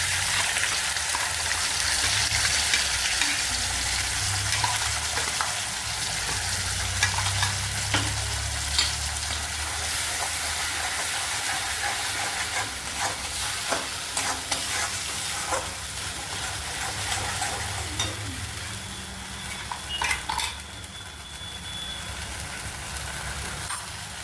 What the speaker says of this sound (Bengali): মিক্সিতে যে সর্ষেটা বেটে নিচ্ছি ওটা আমি তেলে দিচ্ছি।